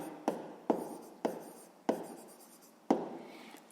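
A pen strikes and scratches on paper in five or six distinct strokes, each a sharp tap trailing into a fading scrape, close and clear in a quiet room while working a sixth-grade math exercise.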